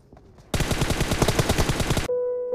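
Rapid automatic gunfire in the battle royale game Free Fire, a loud sustained burst of about a dozen evenly spaced shots lasting around a second and a half, then an abrupt stop followed by a steady electronic tone.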